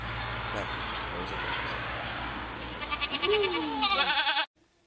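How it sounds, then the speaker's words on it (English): A goat bleats in a wavering, drawn-out cry near the end, played back from a recording over a dense, noisy background that may hold other sound or voices, then cuts to near silence. "Go back to the goat."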